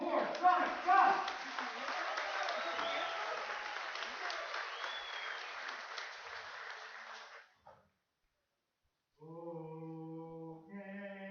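A baseball crowd at a Toronto Maple Leafs versus London Majors IBL game claps and cheers loudly for a performer for about seven seconds, then falls silent before a sung note begins.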